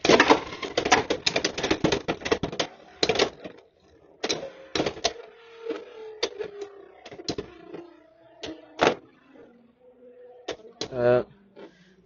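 Hasbro Soar Phoenix Beyblade on a gear flat bit launched into a stadium, a dense burst of sharp clattering collisions at first, then sparser metallic clicks and knocks as it spins, with talk over the action.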